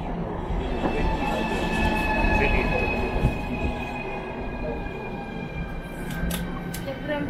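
An MCD commuter train rolls through Kryukovo station with a loud, continuous rumble of wheels and carriages. Faint squeals rise near the end.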